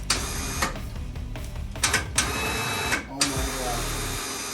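An electric winch on a lifted Smart car, run from a handheld remote, whirs in short motor bursts that start and stop several times at close range, while someone talks over it.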